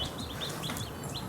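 Baby chicks peep in a poultry-raising setting, several thin, high chirps repeating irregularly at a faint level over a soft background hiss.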